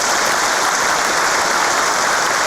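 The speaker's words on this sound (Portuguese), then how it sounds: "Peço que os irmãos recebam uma salva de palmas" Audience applause for the organizers at a spiritist lecture, a dense, loud and continuous clapping from many hands that fills the whole moment without a break.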